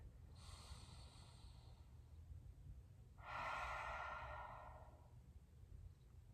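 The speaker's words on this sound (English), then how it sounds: "Taking 3 deep breaths here" Two slow, deep breaths held during a full body stretch, soft and airy against a quiet low background hum, the second one fuller and longer.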